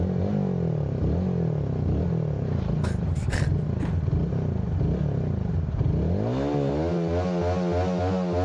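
A motorcycle engine idles and revs with a rough rumbling drone, pitch rising and falling in repeated throttle blips toward the end, with a brief clatter in the middle; no talking.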